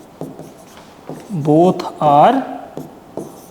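Chalk or marker writing on a board in a classroom, making short scratchy and squeaky strokes in quick bursts, with a voice speaking briefly.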